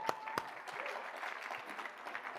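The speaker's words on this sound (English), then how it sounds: "Big round of applause for Avram Pilch." Audience applause at a gadget competition during the 2015 International CES trade show, fairly faint and distant steady clapping from a crowd, with a few sharper claps near the start.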